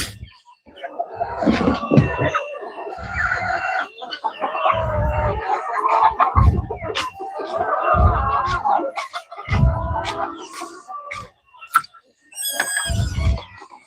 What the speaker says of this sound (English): My Rhode Island Red, the culled hybrids that I purchased instead of raised from chicks.